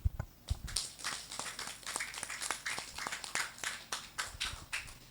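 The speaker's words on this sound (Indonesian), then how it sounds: "mari kita berikan tepuk tangan dulu" A seated audience at an Islamic jurisprudence discussion gives a round of applause, scattered hand claps at moderate distance, fairly faint and irregular.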